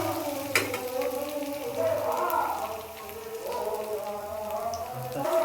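Garlic, ginger and cumin paste frying in a pan, a steady soft sizzle with a faint rain-like crackle that runs throughout, heard under a voice.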